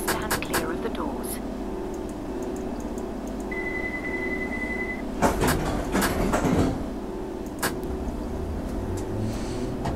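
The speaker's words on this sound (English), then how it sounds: "This train is ready to depart. Please stand clear of the doors." A London Underground train in a simulator game closes its doors and pulls away, with a steady rumble, a short beeping tone and clunking bursts midway, while someone talks over it.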